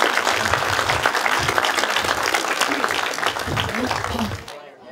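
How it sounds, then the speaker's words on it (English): A school audience gives a dense burst of applause that holds steady for several seconds and then quickly dies away, with voices faintly mixed into the clapping. "Give her a clap."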